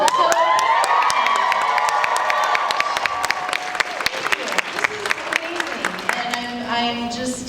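A large crowd at a convention panel and Q&A claps and cheers loudly and continuously, with whoops and shouts rising above the applause as a voice speaks over the noise.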